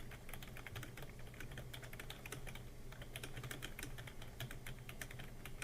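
Rapid, steady keystrokes on a computer keyboard while someone codes a card-game arc in GameMaker Studio, close and continuous with no voices.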